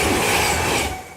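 A train passes on railway tracks with a loud rushing roar and a faint metallic ring, close by, fading slightly at the end.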